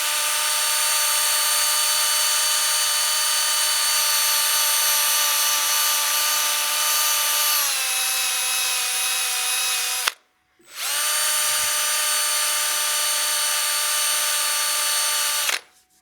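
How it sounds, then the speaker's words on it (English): Power drill sanding a wooden bowl on a lathe, a steady high whine running loud and continuous, dropping slightly in pitch midway, cutting out briefly, then resuming at full speed before stopping. "feather that drill across the surface to try and blend that"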